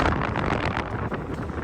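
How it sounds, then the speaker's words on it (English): Strong wind on an exposed White Mountains ridge in New Hampshire buffets the microphone in a continuous, roaring rush with gusty surges, loud and close throughout. "It's getting windy now"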